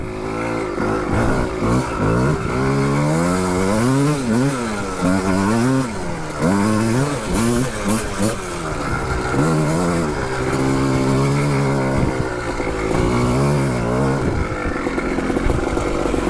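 A 1985 Yamaha Tri-Z 250 three-wheeler is ridden on sloping hill terrain. Its engine snarls and revs up and down repeatedly, loud and close, with no talking.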